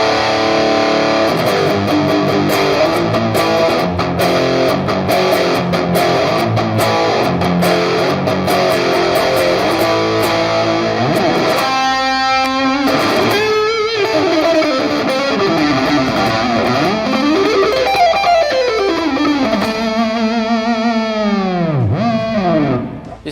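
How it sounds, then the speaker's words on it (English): Schecter Hellraiser electric guitar with active EMG ceramic-magnet pickups played loud through distortion and effects, a dense sustained tone that ends in swooping dives and bends near the close. "This series features active EMG pickups, which have powerful ceramic magnets, which are great for increased sustain and output."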